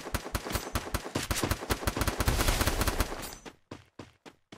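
Rapid gunfire in a shooting video game, a dense automatic burst of loud, close shots that thins out into a few separate spaced shots at the end.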